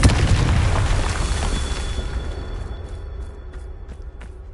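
A spell blast detonates in Hogwarts Legacy, a loud booming explosion right at the start that rolls off into a long fading rumble and debris hiss, with a few faint clicks at the tail.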